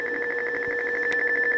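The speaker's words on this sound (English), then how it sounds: "as you can hear by the beeping, there is a keyboard issue" An IBM PS/2 Model 50z 286 computer emits a steady run of rapid, evenly pulsed electronic beeps signalling a keyboard error, clear and continuous with no talking.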